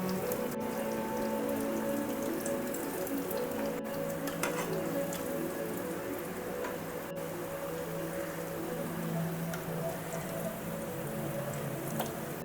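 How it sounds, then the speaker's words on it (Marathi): A vegetable cutlet fries in a pan, giving a continuous even sizzle with fine crackle over a constant low hum, close by and steady throughout, with no talk. "एक साइडने फ्राय झाले की असे पलटून घ्यायचे"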